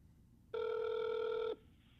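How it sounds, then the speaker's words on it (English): A single steady electronic telephone ring tone sounds for about a second while a call is transferred to Experian, clear but quiet over faint background hiss. "Please hold while I transfer your call."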